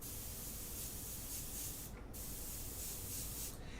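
An airbrush sprays a test burst onto a scrap area during a painting session, giving a steady, close airy hiss that runs through the whole clip with brief dips in the flow.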